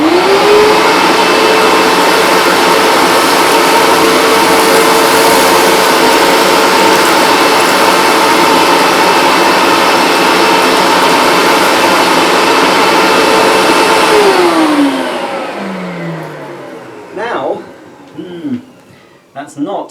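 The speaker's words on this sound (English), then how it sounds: "I just want to switch the machine on for suction only." A Bissell Hydroclean vacuum cleaner running on suction only, with the heater and pump off, gives a loud, steady motor whine for about fifteen seconds, then winds down and stops.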